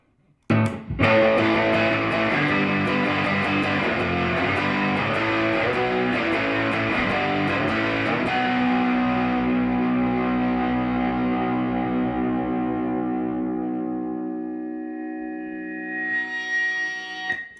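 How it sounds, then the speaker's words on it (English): An electric guitar rings out heavily distorted through a Lovepedal Vintage Modern pedal stacked with a boost, strummed chords chugging with thick saturated crunch, then a long sustained chord decays slowly into fading feedback. "Now, when they're stacked, you're going to get some nice distortion"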